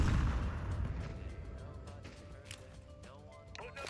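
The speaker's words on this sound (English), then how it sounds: "Throwing a grenade. Throwing fire. Grenade out." Heavy, continuous gunfire and booming grenade explosions fill a video game battle, dense and loud throughout, with voices speaking over the din.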